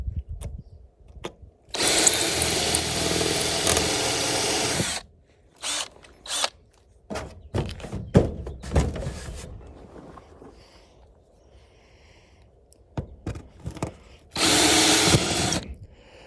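A power drill drilling out rivets from the sheet-metal skirting of a 55-year-old Airstream trailer, in several loud bursts of whirring with short gaps and clicks between them.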